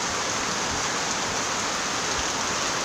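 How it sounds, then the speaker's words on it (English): Steady rain pours outside, a dense, continuous hiss of drops on surfaces that holds at a constant level throughout with no voices. "It's pretty rainy."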